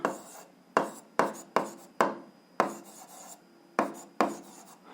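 Pen or chalk strokes write an algebra equation by hand, a series of about nine crisp scratching strokes in a steady rhythm, each fading quickly, close and clear with no talking.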